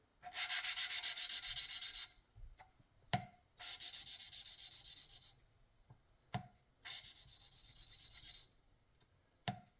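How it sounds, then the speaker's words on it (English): An engine valve on a John Deere is lapped by hand with lapping compound: three long, harsh grinding rubs, each about two seconds, separated by short pauses and sharp clicks, close up with no talking. "put some lapping compound on my valve and lap those in"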